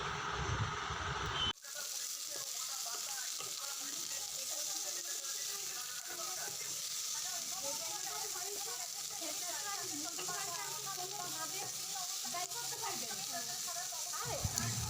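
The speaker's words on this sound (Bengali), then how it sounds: "একটু ভাজা হয়ে গেলে কামরাঙাটা দিয়ে ভালো করে ভেজে নেব।" Star fruit frying in mustard oil in a wok over low heat, a steady soft sizzle with faint stirring scrapes running on and on after a brief louder clatter at the start.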